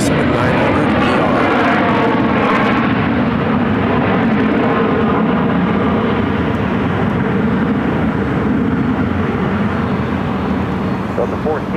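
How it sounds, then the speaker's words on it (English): A Delta Boeing 737-900ER airliner arriving from Salt Lake City at Phoenix airport, a loud steady jet engine roar rumbling throughout, with voices talking over it. "It's Delta Flight 1451 coming in from Salt Lake City on a 737-900 ER."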